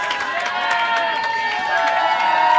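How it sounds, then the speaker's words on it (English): Spectators at a 2013 NAIA Invitational college bowling match give a sarcastic cheer, a steady wash of crowd voices and whoops lasting a couple of seconds at fairly close range. "And they sarcastically cheer"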